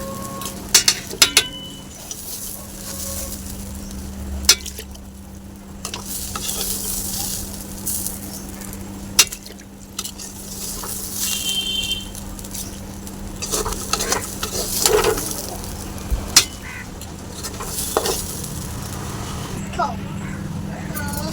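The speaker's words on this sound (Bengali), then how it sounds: "সেই দেখো আমি ভালো করে কষিয়ে নিচ্ছি" Vegetable khichuri with rice and spices being sautéed and stirred in a pan, a steady frying sizzle with scraping spoon strokes and occasional clinks, with a voice talking over it throughout.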